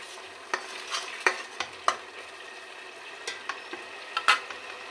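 Onion, ginger and garlic sizzling quietly in a pan while a spoon stirs, with soft frying hiss under a series of light scraping clicks, no talking.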